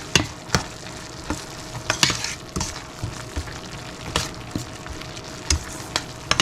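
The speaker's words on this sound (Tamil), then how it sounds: "கொஞ்சம் நல்லா வதங்கட்டும் வதங்கி கொண்டிருக்கு" Crushed tomato with turmeric, chilli, paprika and cayenne powders sautéing in a pan, a soft sizzle under frequent sharp spatula scrapes and knocks, close up and with no talking.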